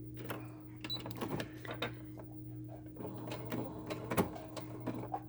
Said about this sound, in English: so last time back at the sewing machine to do the 1/4 inch seam allowance